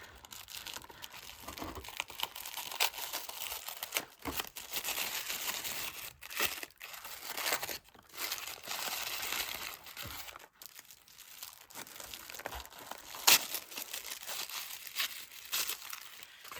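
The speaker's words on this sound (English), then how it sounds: "Opening up these little gifties." Wrapping on small art advent calendar gifts crinkles and tears close up, busy irregular rustling in bursts with short pauses between handfuls, no talking.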